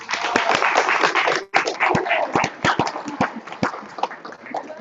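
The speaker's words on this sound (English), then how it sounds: "We have another round of applause for Claudia Davis." An audience at a conference claps in a sustained round of applause, a dense crackle of many hands with sharper individual claps standing out, continuing steadily throughout at close range.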